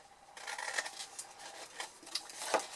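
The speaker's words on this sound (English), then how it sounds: "I'm simply just cutting up the other vertical score lines, keeping the rest in place" Scissors snipping through scored card for a Christmas craft project, a few short close cuts with small clicks and rustles, fairly quiet, no talking.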